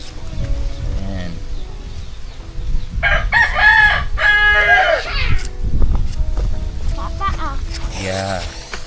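Roosters crowing repeatedly and nearby, with loud drawn-out calls and clucking among farm sounds, while people talk in a Filipino household setting.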